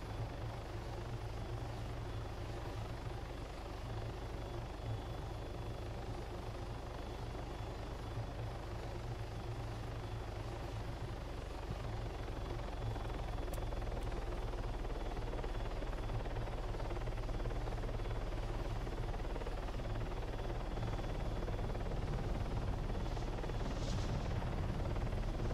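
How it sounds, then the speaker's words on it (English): Helicopter landing in the military video game Arma, a continuous loud rotor thrum and turbine whine that stays steady and close for the whole stretch, with no voices over it. "Chopper landing behind the office building next to Tower 2."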